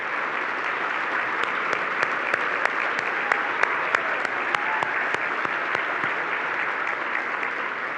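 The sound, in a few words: audience applause for board of directors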